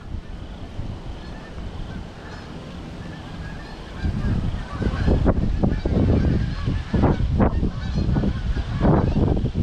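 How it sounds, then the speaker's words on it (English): A flock of geese honks as it flies low overhead, calls building louder and denser in the second half over steady wind noise. "Here comes some more geese."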